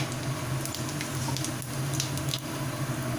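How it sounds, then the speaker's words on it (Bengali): Cumin seeds dropped into hot oil for tempering, giving a steady, close, fairly loud sizzle with faint crackles and no voices. "তেল গরম হয়ে গেছে এবার আমি এক এক করে এর মধ্যে সব ফোড়নগুলো দিয়ে দিচ্ছি প্রথমে দিচ্ছি পরিমাণ মতো জিরে ফোড়ন"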